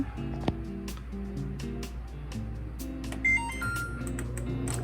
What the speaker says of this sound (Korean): 전자레인지에 4분 돌렸고요.